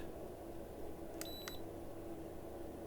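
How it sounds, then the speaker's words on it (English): Two short electronic beeps from a small device, close by, over a steady low background hum. "And you heard that little beep."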